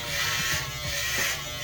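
Electric clippers shave a man's head in a hotel bathroom, a loud continuous close-up buzz that shifts slightly in pitch as the blades move across the scalp, with no talking.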